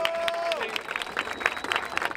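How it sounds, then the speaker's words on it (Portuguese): A crowd at a freestyle rap battle in Barueri, São Paulo breaks into scattered applause and cheering, the clapping building into a dense, uneven patter with faint voices mixed in. "Palmas para o AJ, aê!"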